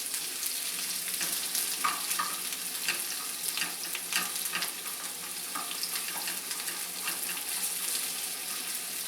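Egg foo yung ingredients searing in a pan produce a continuous hissing sizzle with crackling pops throughout, close and moderately quiet, with no talking.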